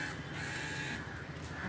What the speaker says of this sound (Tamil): ஹலோ சொல்லி முடிக்கல, அதுக்குள்ளே ஓடிட்டா கரிச்சாக்குருவி.